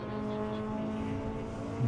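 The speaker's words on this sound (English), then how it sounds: "A pack of cars coming through there as well" Several race cars sweep past on a regional circuit, among them a Trans-Africa Racing Honda Civic, a continuous layered engine drone at steady loudness that swells slightly at the end, with no voices.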